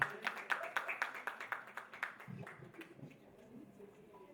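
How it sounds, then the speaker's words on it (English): A small women's wellness audience applauds a speaker welcomed to the stage, with regular close claps that thin out and fade over a few seconds as a voice begins underneath. "Please give her a round of applause."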